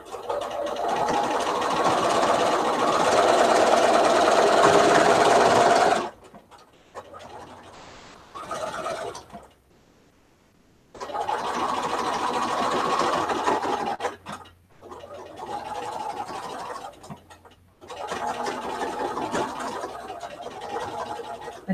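A sewing machine quilts fabric in long, steady whirring runs, stopping and starting several times with short pauses and quiet handling of the cloth between stitching bursts.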